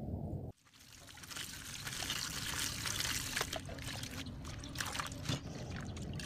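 Papait greens being washed by hand in a basin of water, steady close splashing and trickling with occasional sloshes after a brief opening thud.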